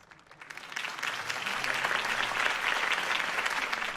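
A crowd bursts into applause after a campaign speech in a Batman video game, the clapping swelling within the first second and holding as a dense, steady roar.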